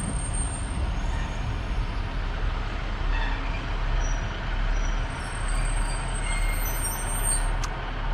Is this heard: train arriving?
yes